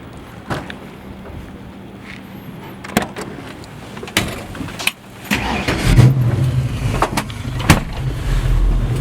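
A Mustang muscle car is started up after door and cabin clicks and thumps, then the engine catches and settles into a low, steady, close idle rumble.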